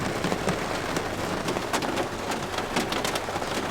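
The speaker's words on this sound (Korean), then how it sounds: "비가 너무 많이 와요." Heavy rain pours down outdoors in a steady, moderately loud hiss with scattered droplet spatters and no voices.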